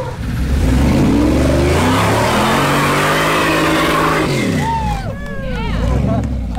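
A large off-road wrecker truck driving and revving, a loud close engine roar that climbs and falls in pitch as it passes, with voices talking over it near the end.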